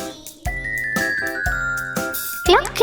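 Bright, ringing clock chimes strike in a steady series of evenly spaced tones, each with a long decay, as part of a Malayalam nursery rhyme. A jingly flourish closes the run, loud and close.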